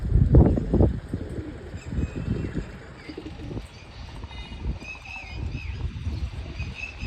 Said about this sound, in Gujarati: તો કેટલા આમ તો બધા કબૂતર મસ્ત થઈ ગયા છે ને ઘણા બધા થઈ ગયા